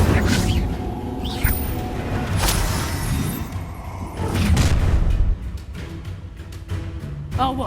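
A fire spell cast in the video game Hogwarts Legacy, a loud whooshing, booming blast that flares repeatedly amid a dense mix of combat noise, with voices in the background.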